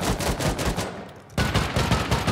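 Rapid automatic gunfire from the video game Rust, dense bursts of loud shots with a brief pause about a second in before the firing resumes just as fast.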